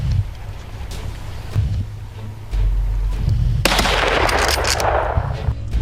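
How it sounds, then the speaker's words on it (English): Gunfire rings out during a wild boar hunt in dense bush, with heavy low thumps and a sharp, crackling burst of shots that grows louder near the end. "Gunshots rang out continuously."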